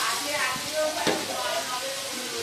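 Spices sizzling and being stirred in a frying pan for a home-cooked meal, a steady close crackle with a brief louder spike midway, continuous through the clip.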